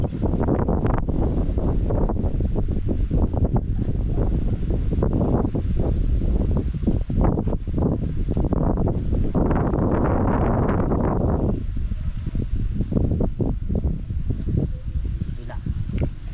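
Strong wind buffeting the microphone, a continuous rough roar with gusty surges and rustling throughout.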